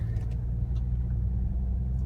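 A 2016 Audi Q5 TDI diesel engine hums steadily while driving, a continuous low rumble with road noise filling the cabin, smooth and unbroken, with no talking.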